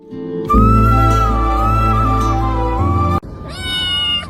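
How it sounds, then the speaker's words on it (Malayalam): A cat meows loudly and close by: one long, drawn-out wavering meow, a brief pause, then a second shorter meow. No one speaks. "ഈ പൂച്ച ഇവിടുന്ന് പോവലുമില്ലേ?"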